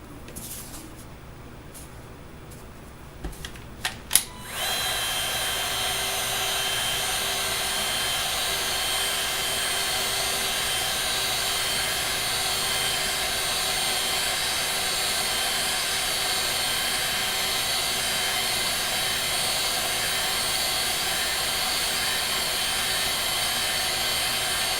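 A heat gun blows hot air over detail rings on an Iron Man MK IV suit build, starting with a few small knocks and then settling into a loud, continuous whooshing roar that lasts to the end.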